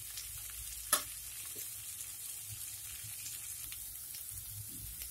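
Vegetables and soya chunks are tossed and fried on a nonstick tawa, making a gentle continuous sizzle with soft stirring scrapes and one sharp utensil clack near the start, close and quiet.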